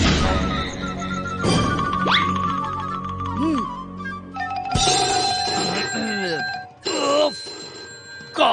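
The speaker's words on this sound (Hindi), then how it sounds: "इस फोन की आवाज से मैं डिस्टर्ब हो रहा हूँ" A phone rings in a Hindi cartoon, a bright electronic ringtone cutting in among music, cartoon sound effects and voiced dialogue, loud and close.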